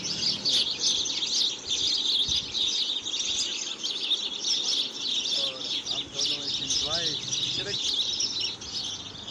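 Evening birds near a railway area in Taxila, Pakistan chirp and twitter in a dense, constant high chorus, with a few separate clearer calls standing out midway.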